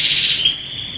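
Prize-winning competition canary singing loud and close, a fast buzzing trill sliding into a clear sustained whistled note.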